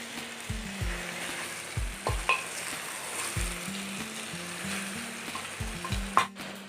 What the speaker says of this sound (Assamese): আৰু এই কচুখিনি দি মই আৰু 5 মিনিট সময় টাইম ফ্ৰাই কৰিম